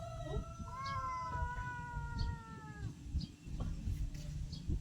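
A cat lets out a long, wavering meow followed by shorter faint ones, set against a busy, rustling background with little talk.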